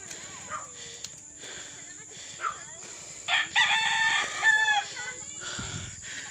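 A rooster crows in the middle distance over a steady outdoor background, with people talking and other sounds around it.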